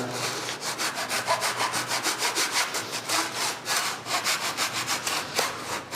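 A hand saw rasps through a wooden guitar side piece in quick, regular back-and-forth strokes, close and steady, with no speech.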